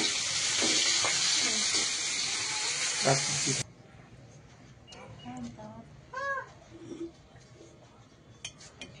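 Onion tempering in hot oil: a strong, steady sizzle for the first few seconds that then cuts off abruptly, followed by quieter kitchen clinks while people talk.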